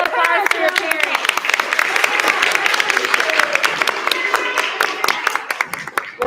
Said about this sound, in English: Round of applause for your parents.